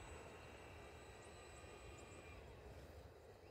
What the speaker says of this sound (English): The motor kind of sounds a little rough.